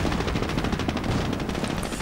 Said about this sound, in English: Fosca's getting the drop on the British MG-42